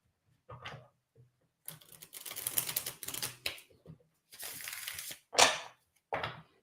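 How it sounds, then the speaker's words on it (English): A deck of tarot cards is shuffled in several quick, crisp bursts of riffling and flicking, with short quiet gaps between them and nothing else around. "Let's give it another shuffle"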